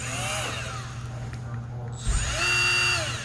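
Milwaukee right-angle die grinder spinning at high speed, a shrill steady whine whose pitch sweeps down and back up, with a brief knock midway and a voice talking in the background.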